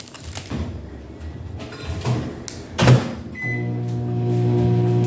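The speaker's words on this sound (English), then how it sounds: "get these in the microwave. It says 1 minute." A microwave oven heating chocolate: a couple of clunks and a door shutting, a short beep, then the steady low electrical hum of the oven starting up and running continuously.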